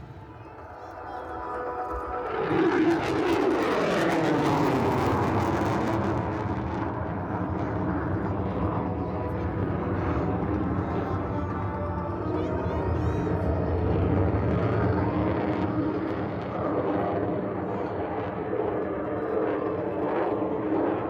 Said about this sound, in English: he'll pull up, go into full afterburner, and climb right out of here